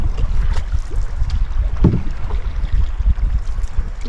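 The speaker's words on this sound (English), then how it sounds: "I am in the middle of a lake and the wind is pushing me exactly where I want to go" Strong wind in the middle of a lake buffets the microphone while a canoe is paddled, giving a constant low rumbling roar with faint water splashes and one brief knock, and no voices.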